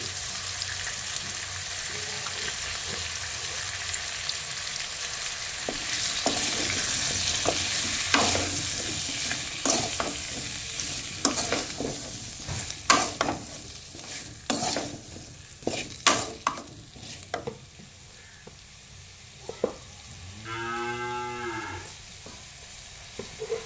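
Ground cumin, coriander and chili powder fry in a hot pan with a steady sizzle and repeated stirring scrapes, and a cow moos in the background near the end.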